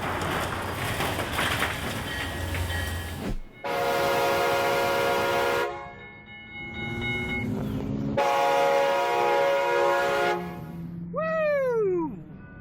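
A train rumbles through a level crossing, loud and close, with long, steady horn blasts sounding in separate bursts and a rising squeal near the end.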